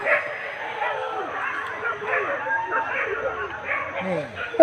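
Hunting dogs on a wild boar hunt in Sumatra yelp, whimper and bark excitedly in a continuous clamour, with people talking and calling over them outdoors.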